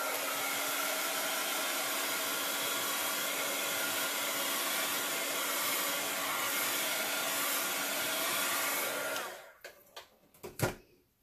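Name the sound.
heat gun drying alcohol ink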